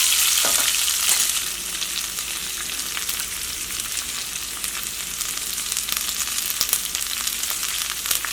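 Chopped onions and carrots sizzle in a hot pan for a vegetable curry, a bright, continuous crackling fry close to the mic, a little louder at the start and then steady, with no voices.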